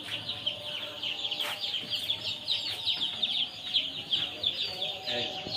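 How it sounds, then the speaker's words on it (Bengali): Chickens at a poultry market cluck and chatter continuously in a dense, moderately close chorus, with occasional sharper calls rising above the flock and faint voices in the background. "কক মুরগি আসছে ওখানে"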